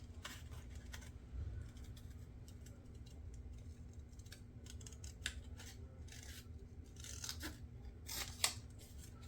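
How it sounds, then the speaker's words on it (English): Scissors snip out paper mushrooms for a mixed media art journal, a quiet, close series of irregular crisp cuts with pauses between short bursts. "I'm gonna cut out these mushrooms as well."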